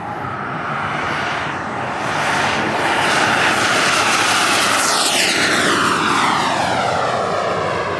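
A scale model Avro Vulcan bomber built from plans, its engines firing up and flying, gives a loud, steady roar that swells after a couple of seconds. Sweeping pitch shifts follow as the jet passes overhead.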